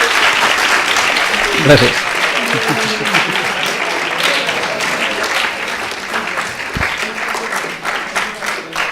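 Audience applause after a talk on three-parent babies, steady broadband clapping filling the room for the whole stretch, with a brief voice speaking near the start.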